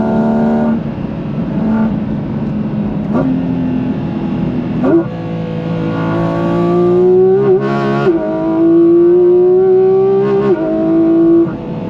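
A Porsche 718 Cayman GT4 RS engine revs hard and climbs through the gears, with rising harmonic whine, brief dips at shifts, loud and close throughout.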